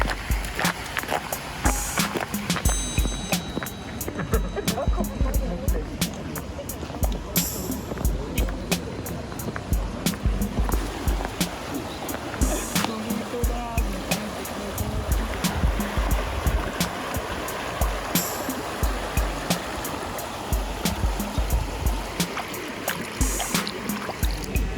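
Shallow Isuzu River water flowing and splashing at the purification spot at Ise Grand Shrine's inner precinct while hands are washed, a steady close rushing burble with brief sharper splashes throughout.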